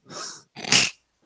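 A single close sneeze, a sharp breathy intake followed by a loud burst of air, with no talking.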